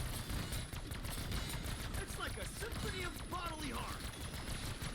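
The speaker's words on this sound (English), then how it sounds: "It's literally a minigun." Minigun in Black Ops 6 Zombies firing in a continuous rapid stream, loud and sustained, with game effects and faint voices layered over the rattling burst.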